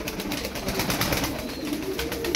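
Caged budgerigars chirp and chatter in a dense, steady twittering wash, close and continuous for a couple of seconds without talk.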